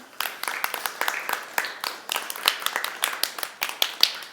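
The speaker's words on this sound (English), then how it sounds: "So first of all, round of applause for Adam and Becky Jo." Audience applause at a live body language show for two participants, a couple, heard as a moderate burst of individual claps with a loose, uneven rhythm, fairly close.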